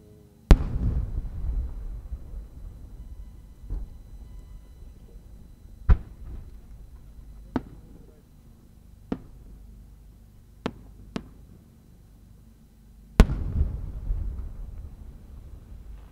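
Fireworks burst at the Omagari fireworks festival in Akita in autumn, including large shells from a Japanese fireworks maker. Several sharp distant booms arrive at irregular intervals over a low rumbling background, with a heavier burst at the start and near the end.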